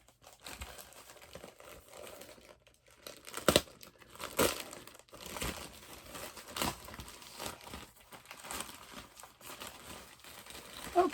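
A taped-together package of rare comics is pulled open close by, with steady crinkling and crumpling, scattered sharp tearing and rustling pulls, and no talk.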